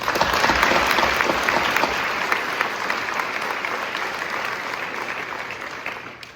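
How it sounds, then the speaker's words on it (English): A high school commencement audience gives a round of applause, a thick, sustained roar of many hands that stays loud for several seconds before slowly tapering off. "So give her a round of applause."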